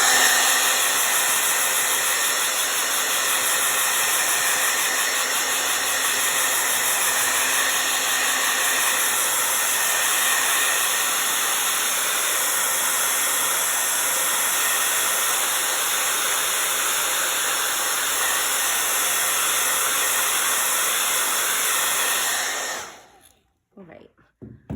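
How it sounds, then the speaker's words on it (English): A hair dryer blows loudly and steadily for over twenty seconds with a constant whooshing hiss, then cuts off abruptly near the end. "I'm gonna blast mine with the blow dryer just so I can keep moving"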